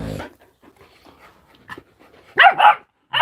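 A pet dog gives a couple of close, loud barks mixed with whimpering, the voiced yelps coming in a quick pair after a stretch of quiet breathing and small noises.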